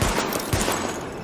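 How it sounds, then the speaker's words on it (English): Gunfire at highlighted targets in Tom Clancy's The Division, a dense rapid burst of automatic shots rattling close and loud for about a second, with no talk over it. "Open fire at the highlighted targets."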